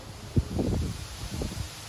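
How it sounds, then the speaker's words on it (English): Wind buffets and rustles across the microphone, a steady rough rush with a few low thumps, no talking. "I'm just like struggling through the whole video because of how windy it is."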